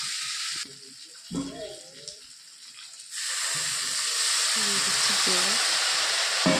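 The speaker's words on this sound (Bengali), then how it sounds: "সাথে একটু জলে দিয়ে দেবো যাতে ভালো করে কষানো হয়" Water poured into a sizzling mustard and potato sauté for a thin tilapia curry, a quiet stretch of frying with faint voice sounds, then a loud steady hiss and sizzle that holds to the end.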